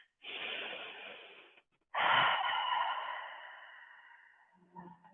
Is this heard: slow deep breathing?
yes